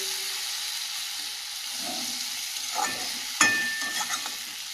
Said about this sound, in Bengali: মাছগুলো দিয়ে বেশ ভালোভাবে কষিয়ে নিয়েছি